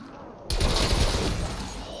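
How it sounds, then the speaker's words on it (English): A golden AK-47 in the Call of Duty Zombies video game opens up in a sudden loud burst of rapid automatic fire that runs steadily to the end, with no talking over it. "I'm using the AK in zombies from now on."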